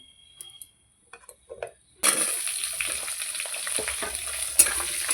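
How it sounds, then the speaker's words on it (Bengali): Potato pieces hit hot oil tempered with dried red chilli and five-spice seeds, bursting into a loud, steady crackling sizzle halfway through after a few quiet clinks, with a sharp pop near the end. "একটু হলুদ দিয়ে আলুটাকে লাল লাল করে ভেজে নেব।"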